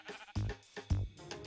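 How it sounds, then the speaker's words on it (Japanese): A white sheep in Minecraft bleats two clear, close bleats in quick succession, with a softer trailing bleat after, and no one talking over them. "ああ、白の羊が"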